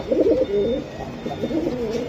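Soft, low cooing of pigeons close by at a pigeon market, a few rolling coos in succession with faint background noise.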